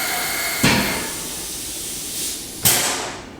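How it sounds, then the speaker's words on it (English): Compressed air from an air compressor hose gives a steady hiss throughout, broken by two sharp bursts of air blowing, the second one loudest. "let me direct up the air compressor air"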